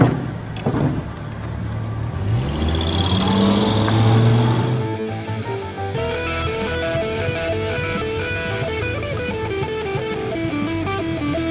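A Volvo T5 engine with 430k miles, once broken, fires up and runs smoothly without stuttering, settling into a steady, fairly loud idle with no voices over it.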